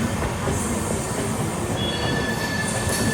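A long train rolls past a closed railway level crossing, a steady dense rumble of wheels on rails with faint squeals near the end, loud and continuous with no talking.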